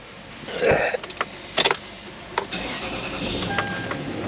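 A Toyota V8 engine, just fitted with a new starter, cranks in a few short bursts and then catches and settles into a steady, slightly high idle, heard up close.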